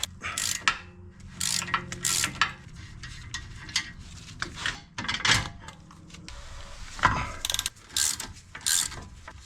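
A ratchet wrench loosens the sway bar link nut on a Volvo XC90, rapid clicking pawl bursts in several close, irregular runs separated by short pauses.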